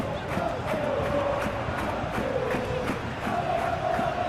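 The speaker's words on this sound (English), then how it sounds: "Crowd appreciates good football all round there" Simulated stadium crowd noise from a Real Betis vs Barcelona La Liga football video game, a steady loud roar of murmuring and cheering with a few rising whistles, continuous throughout with no pauses.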